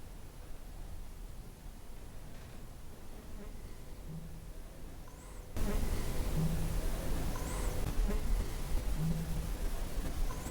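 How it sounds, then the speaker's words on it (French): A mosquito whines close by during a night-time infrared paranormal investigation in an old sanctuary, a thin, faint insect buzz over steady background hiss that grows louder partway through. "là il y a un moustique sur ma droite"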